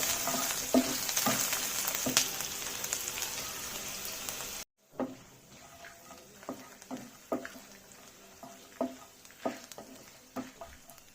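Finely chopped ginger, garlic and onion frying in a pan for chilli chicken: a loud, dense sizzle that drops suddenly, then quieter frying punctuated by repeated scraping stirs of a spatula against the pan.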